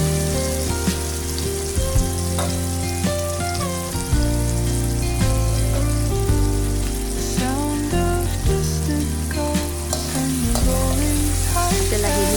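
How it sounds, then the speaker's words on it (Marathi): Garlic mixture sautéed in a pan while making cumin (jeera) rice gives a steady, close sizzle with occasional stirring scrapes, continuing evenly throughout with music playing underneath. "आपल्याला हे मिश्रण जे आहे अगदी 5 ते 10 मिनिटं आपल्याला परतून घ्यायचं."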